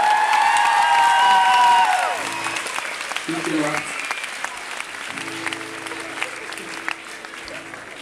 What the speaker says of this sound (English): So yeah, here's an applause for Superman and Batman.